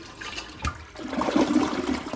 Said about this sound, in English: Flush one more time.